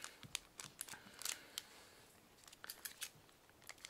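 Quiet, sharp snipping clicks from scissors cutting open Digimon card game booster packs, arriving in short irregular bursts close to the microphone.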